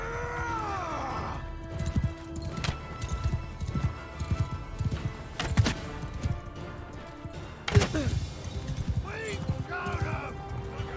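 Horse hooves clip-clop in the Mount and Blade Bannerlord video game, mixed with neighs and scattered battle noise. Someone talks over the hoofbeats throughout.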